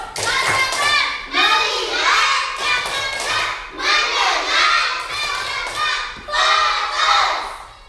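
Third-grade primary school children chant a clapping focus routine in a classroom, loud group voices rising in repeated phrases punctuated by sharp claps and thumps.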